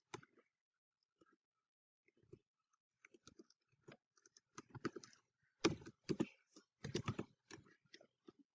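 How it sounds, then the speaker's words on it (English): An email address is typed on a computer keyboard, heard as sparse, quiet, close clicks that turn into a denser run of keystrokes toward the end with no talking. "Type in my email address."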